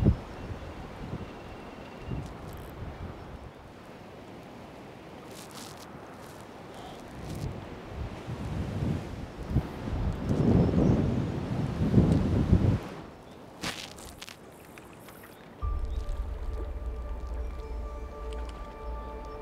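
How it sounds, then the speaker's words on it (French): Wind gusts buffet the microphone at a carp-fishing pond in spring, swelling into a loud rushing peak midway, then giving way to a steady low hum with faint rustling. "On a de la chance, on a le vent dans le dos."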